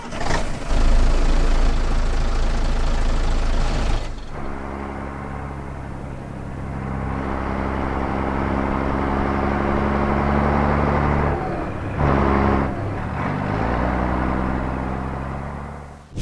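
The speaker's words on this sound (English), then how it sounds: "Let's take a listen to the MATV engine." A military MATV vehicle engine in the video game Squad, a loud droning idle that drops in pitch after a few seconds and then revs and settles in steady rumbling waves, with no voices.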